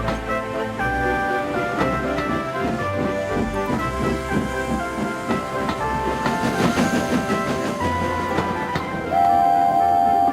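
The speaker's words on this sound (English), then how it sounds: "They chuffed gently into the station." The steam engine Edward chuffing gently along rails into a station in a children's model-train story, with rhythmic clanking and puffing, a short whistle near the end, and music running alongside.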